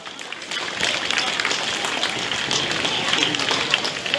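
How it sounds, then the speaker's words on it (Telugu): A school event audience claps loudly and continuously, a dense patter of many hands rising after a quieter start and holding steady, with voices mixed in. "అందరూ గట్టిగా క్లాప్స్ కొట్టాలి."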